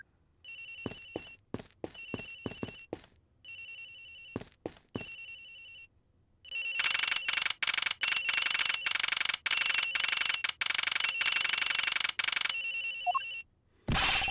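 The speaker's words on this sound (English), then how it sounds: "Agent Hicks's phone! It's ringing from somewhere, sir!" Agent Hicks's phone rings in the video game Ace Attorney Investigations. A few short electronic bursts come first, then a long, loud, steady trill broken by brief gaps, ending in near silence.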